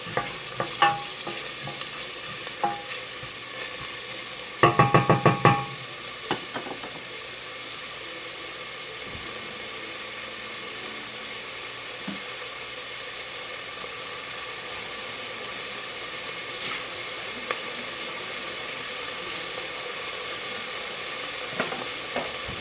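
Diced onions cooking in a pot for one-pot chili give a faint, steady sizzle, with a short burst of louder clatter from stirring early on, then a low continuous frying hiss with occasional soft taps.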